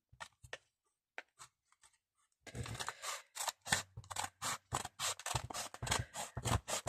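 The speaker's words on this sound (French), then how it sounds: "je vais prendre mes petits ciseaux." A few faint snips at first, then a rapid run of crisp cuts from small scissors, close and steady, with no talking.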